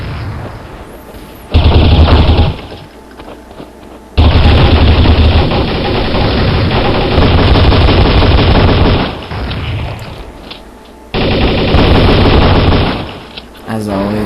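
Colt M4A1 rifle in Counter-Strike: Source firing loud sustained automatic bursts, separated by short quieter pauses, close and dominant.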